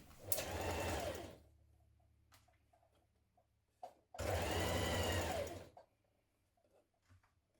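A sewing machine stitches a blouse shoulder seam in two loud, steady bursts, the first about a second long and the second longer, with quiet pauses and faint clicks between them.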